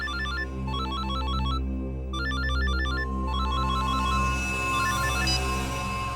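A phone rings with a repeating electronic ringtone melody over a steady background hum, several short bursts of tones with brief gaps between them, fairly clear and close.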